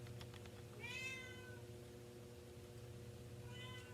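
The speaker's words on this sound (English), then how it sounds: "As you can hear, my cat is not very happy with me right now." An unhappy house cat gives two drawn-out, fairly faint meows a few seconds apart over a steady low indoor hum.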